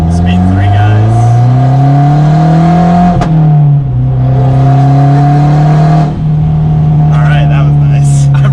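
A Mazda Speed3 fitted with an aftermarket intake and exhaust accelerates hard from inside the cabin, its engine drone rising through the gears with loud, steady power and brief pops on the shifts.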